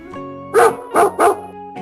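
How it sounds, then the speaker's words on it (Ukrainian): A dog barks three times in an even rhythm, loud and close, as a sound effect over a soft tonal music bed during a story reading. "схвально відповідав пес і біг у справах"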